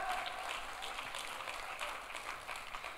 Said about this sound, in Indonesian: Tepuk tangannya yang meriah buat Tuhan kita.